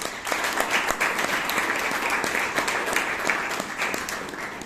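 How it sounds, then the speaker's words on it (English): A crowd's steady applause at a Toastmasters meeting in Bangalore, dense and sustained for several seconds at moderate distance, with no voices standing out. "please give him a big round of applause"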